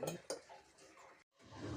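Metal utensils and pots clink and knock while melted jaggery syrup is strained into another pot, with a couple of sharp clanks at the start, softer scraping after, then a brief pause.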